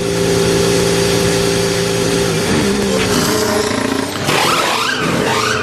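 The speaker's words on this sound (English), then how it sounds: "Fernando Alonso, reporting on his Aston Martin as he makes his way back to his pit box" An Aston Martin Formula 1 car drives back to its pit box during practice at the Canadian Grand Prix, its engine a loud, steady drone that shifts pitch and revs up near the end.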